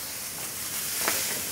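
Onions caramelizing in a frying pan, a steady close sizzle and hiss with a brief stirring scrape, no voices.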